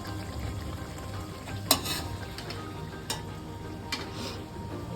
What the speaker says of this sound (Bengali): মশলাগুলো আমার ভাজা হয়ে গেছে, দেখুন তেল একদম উপরে চলে এসছে